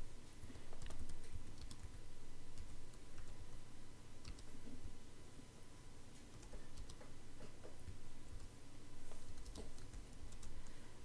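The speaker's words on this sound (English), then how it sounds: "Click and you can type in" Fingers tap steadily on a computer keyboard, with quiet, irregular clicks running for about eleven seconds in a hushed room and no voices.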